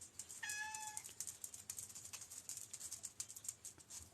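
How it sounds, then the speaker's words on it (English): A cat yowls nearby in a quiet room where someone is crocheting a mesh market tote, giving one short rising meow early on, then quiet room tone with faint handling noise. "I get rid of the huffing dog and I have the yowling cat"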